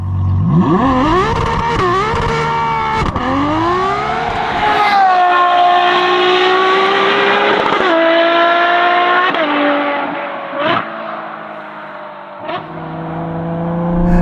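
A Ferrari 12Cilindri supercar with a 6.5 litre naturally aspirated front V12 and Novitec Inconel exhaust drives on slippery autumn roads, its engine loud and close, revving up through the gears with rising and falling howls and brief shift breaks.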